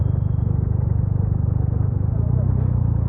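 A Benelli TNT300 motorcycle on the highway, its engine a steady low throbbing rumble with wind noise, constant and close throughout the short stretch.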